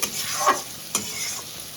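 Mutton mince ghugni being stir-fried in a pan, with a steady sizzle broken by a couple of sharp scraping stirs close up.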